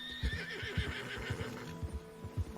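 A horse neighs in Red Dead Redemption II out in the cold, a drawn-out whinny over rhythmic hoof thumps and a low hum, fairly close and alone without talk.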